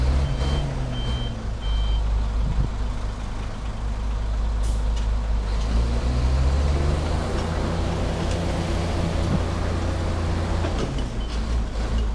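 A new truck straining on an uphill climb backs up, its reversing alarm beeping in a steady repeating pattern over a loud diesel engine rumble and hiss of air brakes.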